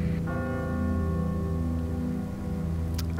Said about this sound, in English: I don't like being out in the middle of the street when the noisy bell is ringing up